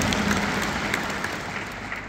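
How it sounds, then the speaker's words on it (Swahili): An audience gives itself a round of applause, a broad steady wash of many hands clapping at a moderate distance, holding evenly throughout with no speech on top. "Tujipigie makofi."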